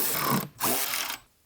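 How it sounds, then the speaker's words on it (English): Ratchet driving the remaining screws into a BMW X5 G05 belly pan, two quick bursts of rapid clicking separated by a short pause, close and crisp. "With our belly pan, we can now slide this in and install the remaining screws."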